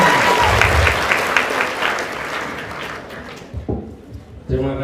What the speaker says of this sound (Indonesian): Kita berikan tepuk tangan semuanya.